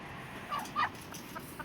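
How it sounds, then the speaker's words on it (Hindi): A Miyanwali breed hen gives a few soft clucks, two short calls close together then a fainter one, quiet and close against a low background hum. "ये मेरे पास है मियाँ वाली की मुर्गी है"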